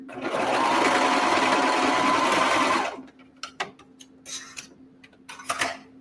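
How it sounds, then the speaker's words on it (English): A serger sewing machine stitches elastic onto pajama pants in a fast, continuous buzz for about three seconds, then stops, followed by scattered clicks and fabric handling. "we're just going to stitch it on the serger"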